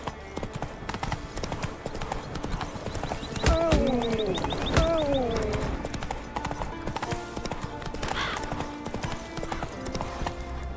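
Hoofbeats of Geralt's horse Roach galloping in The Witcher 3: Wild Hunt, a steady fast clip-clop that runs throughout, with a brief whinny and other game sounds layered over it midway.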